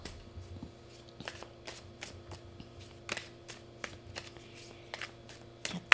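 A deck of Twin Flame Journey oracle cards from Mystic Moon is shuffled by hand, with soft, rapid riffling flutters and light card taps repeating steadily up close at low volume, and no speech.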